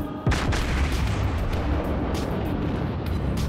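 Warship main guns fire toward a destroyer in naval combat, one sharp heavy boom near the start followed by a long rumbling, crackling tail of battle noise.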